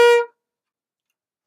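A short, solid alto saxophone note played with quick, fast-moving air, loud and harmonically rich, holding steady for about a quarter second before cutting off into silence.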